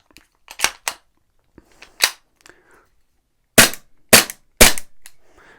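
An ASG airsoft pistol fitted with a foam suppressor fires sharp single cracks, close and loud, spaced irregularly with a tight trio of shots near the end and small handling clicks between.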